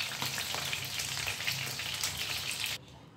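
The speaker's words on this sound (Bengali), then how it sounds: "ওদের চিকেনগুলো একটা দিক ভাজা হয়ে গেছে, আমরা সেগুলো উল্টে দিয়েছি অন্য দিকটা ভালোভাবে ভেজে নেওয়ার জন্য।" Chicken pieces, just turned over, fry in a pan of oil, giving a busy, steady sizzle that cuts off abruptly near the end.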